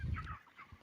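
Fowl on a poultry farm cluck in a short, low burst, faint and somewhat distant, with no talk over it.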